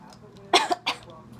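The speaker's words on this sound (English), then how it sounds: "I'm kind of coughing" A couple of sharp, close coughs in quick succession, with a brief throaty catch between them, from drinking too much cinnamon tea.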